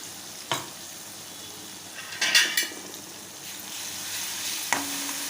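Green chili thecha roasts in a pan with a steady frying sizzle, broken by a few sharp scraping stirs and utensil clinks against the pan.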